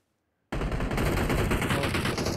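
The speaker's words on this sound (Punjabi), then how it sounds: "ਮੈਂ ਤਾਂ ਚਲਾਈ ਰੱਖੀ ਹੋਈ ਪਸਤੌਲ" Pistol gunfire rings out in PUBG Mobile on the Livik map, a sudden loud burst of rapid shots beginning abruptly after silence and continuing densely to the end.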